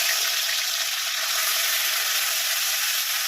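Ground onion paste fries in hot oil for a Bengali prawn malai curry, giving a loud, dense, steady sizzle up close with no break.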